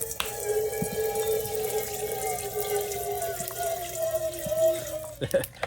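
Water pours from an upturned gallon jug into a bowl, a steady continuous gurgling stream lasting several seconds, close and fairly loud, with a few knocks of the jug near the end.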